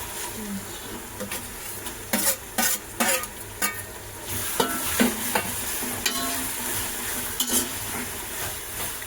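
Tomatoes go into a hot frying pan with oil and chopped green chillies during prawn biryani cooking. They sizzle steadily while a spoon scrapes and stirs in several short bursts, close up.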